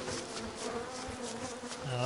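A steady, close bee buzz from the video game Don't Starve drones on throughout, with a faint musical background and no speech.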